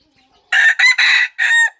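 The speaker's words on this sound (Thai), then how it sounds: "ได้มาใหม่ๆเนาะไก่ป่าอยู่ในกรง" Caged wild junglefowl crowing loudly in four bursts separated by short gaps, the harsh calls carrying a few clucks, close to the microphone with no voices.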